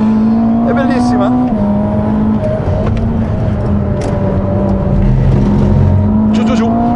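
A Ferrari SF90 Assetto Fiorano sports car drives hard on a racetrack, its engine loud and close as the tone climbs and shifts through the corner, with a continuous roar and brief rasping changes in pitch.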